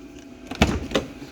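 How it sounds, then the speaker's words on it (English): The door of a Land Rover Discovery 2 Td5 unlatches with a close, sharp clunk, followed by a second softer knock as it swings open, in a brief quiet moment. "And the door opens really easy"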